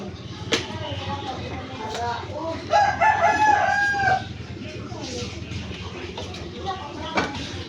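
A chicken about to be slaughtered lets out a short burst of startled squawking and crowing midway, set against voices talking and scattered clanks of pots and utensils nearby.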